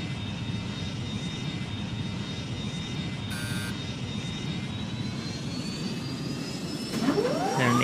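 A jet airliner on final approach with its landing gear extended in the mobile flight game Airline Commander, giving a steady, loud engine drone with a rising whine and a brief electronic tone partway through.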